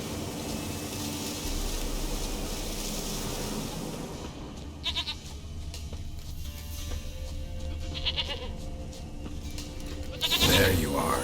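Goat bleating in The Witcher 3 video game, several short bleats at intervals over a continuous ambient hiss of the game world, with one louder, nearer bleat close to the end.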